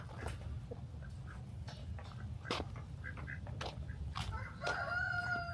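A rooster crows among a backyard flock of Pekin and Magnus ducks, other roosters and a guinea fowl, heard near the end against a low outdoor background with scattered clucks and bird calls.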